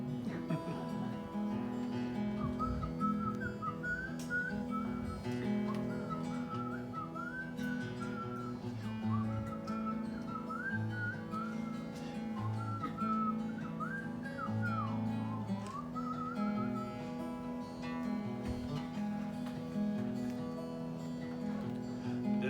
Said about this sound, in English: I'm gonna try to whistle.